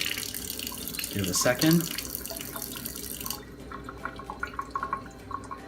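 Water runs steadily from an Enagic Kangen K8 water ionizer set to 9.5, with a louder splashing surge early on that then settles into a softer flow while a person speaks briefly.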